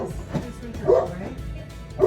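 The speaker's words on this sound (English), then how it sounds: "This in from the dog across the street." A dog across the street barks a few times, short yappy woofs with brief whimpering tones spaced across two seconds, moderately near, with faint voice-like sounds behind.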